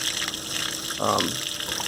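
Water gushes through the open black tank valve of a 2019 Palomino Solaire 317BHSK RV trailer during a water test, a steady rushing flow with a brief louder surge midway.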